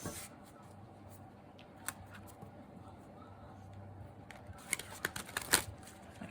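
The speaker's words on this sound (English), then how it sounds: "I can shuffle these cards." Low room hiss and faint rustling, then a short flurry of crisp, riffling card-shuffling clicks near the end, close by.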